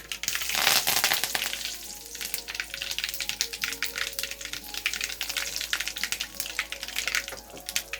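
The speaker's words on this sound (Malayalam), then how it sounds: "ഇനി നമുക്ക് കറിവേപ്പില ഇട്ട് കൊടുക്കാം." Curry leaves dropped into hot oil while cooking a Kerala-style brinjal stir-fry: crackling, spitting sizzle that bursts loudly at first, then continues as irregular popping and frying noise.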